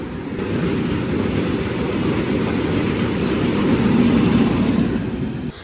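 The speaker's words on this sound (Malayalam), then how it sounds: "മഴയത്ത് ആ ട്രെയിൻ പോകുന്ന കാണാൻ ഒരു പ്രത്യേക ഭംഗിയാണേ." A passenger train on the Konkan Railway rolls by during monsoon rain in a steady, loud rumble with low wheel noise that swells slightly toward the end, heard without any speech.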